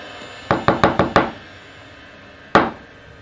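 Five quick knocks on a door come in a steady row, followed after a pause by a single louder rap, close and sharp against a quiet room.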